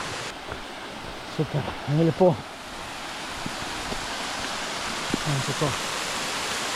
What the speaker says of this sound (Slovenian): Evo, kakšen čudovit slap.